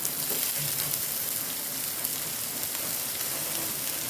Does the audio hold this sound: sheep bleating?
no